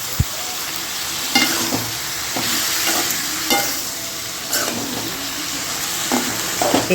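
Curry masala for a dried-fish kuzhambu is sautéed in a pan, with a loud continuous sizzle and repeated scraping stirs of a spoon against the pan at close range.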